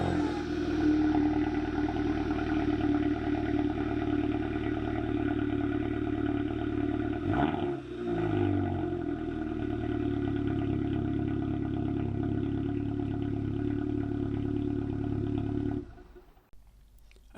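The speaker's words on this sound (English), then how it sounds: "who could forget about the cold start the next morning? It actually sounds even better on a cold start." Standard Audi TT fitted with an MK2 TTS rear exhaust runs on a cold morning start, holding a steady, droning idle with a brief clatter midway before the engine shuts off near the end.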